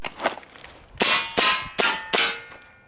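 An airsoft pistol fires four quick shots during a draw-and-shoot target drill, each a sharp crack followed by a metallic clang from a steel target, close and loud and evenly spaced, with a few fainter clicks beforehand.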